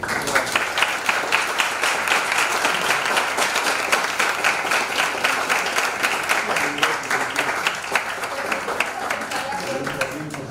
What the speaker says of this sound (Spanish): démosle por favor un aplauso